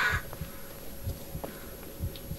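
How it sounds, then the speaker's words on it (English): In the horror video game Blair Witch, a heartbeat sound effect gives soft, low, muffled double thumps at a steady pulse beneath a faint ambient hum, with a brief crow-like call at the start and no talking. "why am I hearing a heartbeat?"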